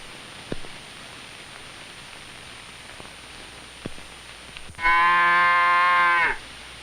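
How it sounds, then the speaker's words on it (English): A single long, loud cow moo sounds on a farm after several quiet seconds of hiss and a few faint knocks, then fades back to the background static. "He might save his money and buy a Guernsey cow like Belle or Buttercup."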